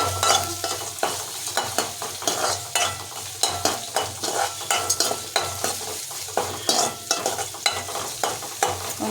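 Onions sautéing in a pan for Tamil-style egg rice (muttai sadam), with a steady oily sizzle under repeated scraping stirs of a spoon against the pan, close and fairly loud, no voices.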